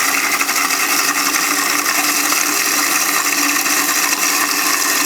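A blender running on its slowest speed mixes Caesar dressing as olive oil is added, a steady, fairly loud whirring churn that continues evenly with no talking.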